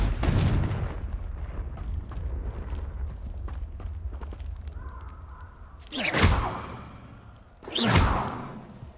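The Confringo fire-blast spell in Hogwarts Legacy, heard as booming blasts, with a heavy rumble at the start and two sharp whooshing bursts toward the end over steady game ambience.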